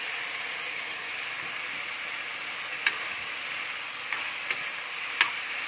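Boiled potatoes dropped into spice masala frying in oil, giving a steady, close sizzle with a few faint clicks of a spoon on the pan.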